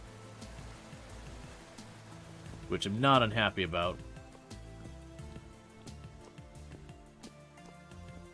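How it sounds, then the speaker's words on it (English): Steady rain falling in the game Vintage Story, a soft continuous patter under a man's speech in the middle of the stretch. "since I complained about it, we've been getting pretty perpetual rain"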